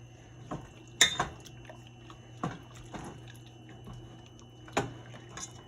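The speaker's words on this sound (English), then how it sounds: "Then I'm gonna stir it" Peach cobbler mix being stirred after vanilla extract goes in: a few soft, separate clinks of a utensil against a bowl, close and fairly quiet over a steady low hum.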